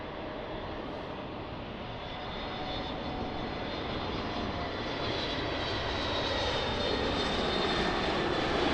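Airplane jet engines roar at Lisbon Airport, a steady broadband rumble that swells gradually louder over the clip as the aircraft nears, with no voices present.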